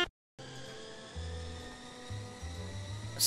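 A plane engine hums steadily while taxiing in a Roblox flight simulator game, a synthetic droning tone with shifting low pitch steps after a brief silent gap, no talk.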